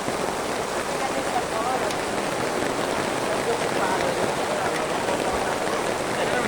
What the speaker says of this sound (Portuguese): E a chuva tá assim, ó